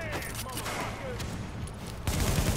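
Sustained automatic gunfire in The Division video game, a steady close barrage that swells louder near the end, with a voice heard briefly under the shots.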